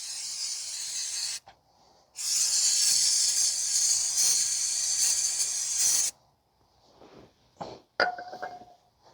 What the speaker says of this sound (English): just wash the area down with some brake cleaner.